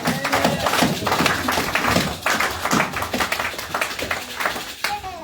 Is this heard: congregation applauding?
yes